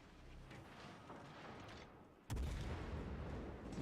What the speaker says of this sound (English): Ruprecht's still shooting HE.